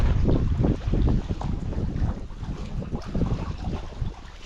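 Steady autumn wind buffeting the microphone on a pike fishing outing, a continuous low rumble with gusty surges, with no voices.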